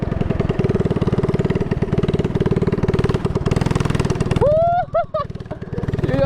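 A Honda dirt bike converted into a three-wheeler revs hard with a rapid, loud, buzzing single-cylinder pulse. Near the end the engine drops away and a person's voice comes in briefly.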